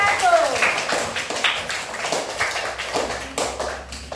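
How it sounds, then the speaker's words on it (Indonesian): Scattered clapping from a small classroom discussion group, a few hands tapping unevenly and fairly close, fading and thinning over a few seconds with faint voices mixed in. "Kalau begitu bisa kasih tepuk tangan untuk kelompok"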